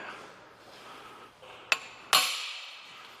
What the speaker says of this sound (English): So we're using a hammer driver with a number 3 Phillips.